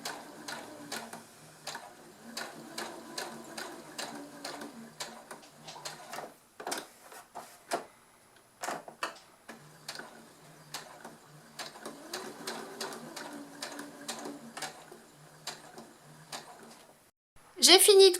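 A home sewing machine stitches fabric for a Christmas tree decoration, giving quiet, rapid mechanical ticking in short bursts with pauses between runs and a louder clunk at the end.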